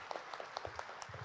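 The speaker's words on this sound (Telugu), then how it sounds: "బీవిరెడ్డి గారు మరి వారికి అందరం గట్టిగా చప్పట్లు కొడతాం మనం." An audience at a spiritual gathering applauding, a brief, faint patter of many hands clapping, slightly distant.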